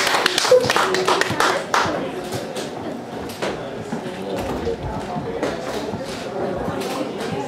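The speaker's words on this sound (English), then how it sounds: "So a big round of applause for Vivian, right here." Audience applause at the Silicon Valley's Got Talent show at the McAfee Center: a burst of many hands clapping that thins out after a couple of seconds into scattered claps, with people talking over it.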